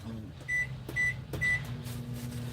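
A microwave oven heating a cup of coffee hums steadily at low pitch, with three short, bright beeps spaced about half a second apart standing out over the running drone.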